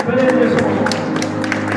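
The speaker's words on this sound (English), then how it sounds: "Let's clap hands for Jesus." Church congregation clapping hands for Jesus, brisk rhythmic claps over a steady hum of voices and music in a worship service.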